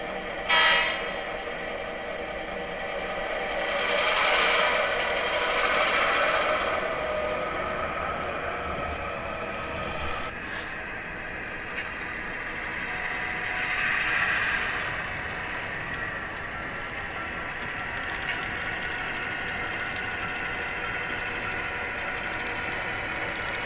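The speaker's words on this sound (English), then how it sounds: "Now it's time to get our train and head back." A model train runs with a low, steady rumble, and two swells of whistle-like tones rise and fade over it.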